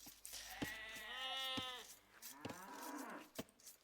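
A cow in the Age of Empires video game lets out a long, wavering moo, followed by a second shorter lowing call, with a few sharp clicks and taps from gameplay around it.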